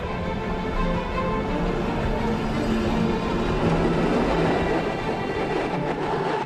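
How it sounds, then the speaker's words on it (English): A loud, continuous rumble of a 1908 steam locomotive running on the Brünig line in Switzerland, a dense steady roar with faint rhythmic clatter and no voices. "Today we will join a private steam train on the Brünig-Dampfbahn to Meiringen"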